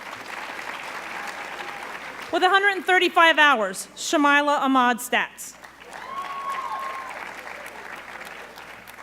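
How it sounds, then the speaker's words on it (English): A school audience at a senior awards ceremony claps in two strong bursts of applause, with a voice announcing over the hall between and after them. "that deserves a round of applause"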